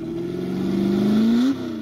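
A Ford GT40 race car engine revs on a track, a loud, close, steady tone that climbs in pitch, peaks, then drops back as the throttle eases, with no voices.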